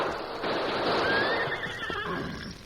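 A horse named in a radio-drama western scene whinnies loudly and close, a long rising and falling neigh with hoof clip-clop mixed in, heard alone without talk.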